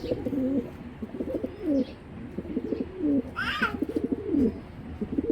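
Racer pigeons cooing in a loft, repeated soft rolling coos close by in a steady rhythm, with a brief higher call partway through.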